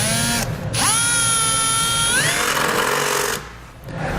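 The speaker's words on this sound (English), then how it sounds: "We'll now use a 2564 drill bit to drill out all the holes that we marked." A power drill with a drill bit bores holes through the rear inner fender of a 2012 Jeep Wrangler. A loud, close, steady whine rises in pitch as the motor spins up and drops off between bursts.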